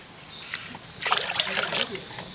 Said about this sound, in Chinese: 加水烧面